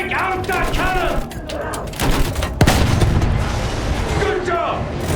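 A field gun cannon fires in the Battlefield 1 mission Storm of Steel, with a sharp heavy boom near the middle followed by rumbling battle noise, while soldiers shout over the scene.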